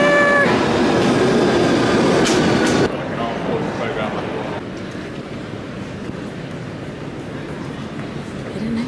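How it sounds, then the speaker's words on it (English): A train pulling into a London station, with a rumbling rolling roar and brief high tonal squeals early on, then a quieter steady rumble as it slows, heard close with station ambience. "Well, my train is here!"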